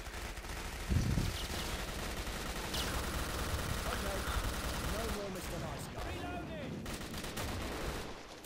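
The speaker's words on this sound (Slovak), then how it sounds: "on furt strieľa" Gunfire in the video game Killing Floor crackles in rapid bursts amid constant action noise, while players talk over the shooting.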